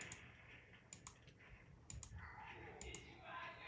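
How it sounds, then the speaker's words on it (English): Rapid computer keyboard and mouse clicks during a game, coming in short clustered bursts over a steady low room hum, close and fairly quiet. "I'm playing on my keyboard and mouse right now"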